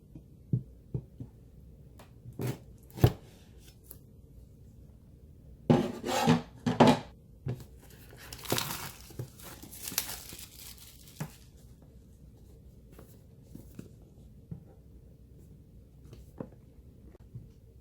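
A Huawei P20 Pro phone box being unboxed, with scattered crinkling, tearing and handling clicks, mostly quiet and close, and a denser, louder burst of rustling partway through.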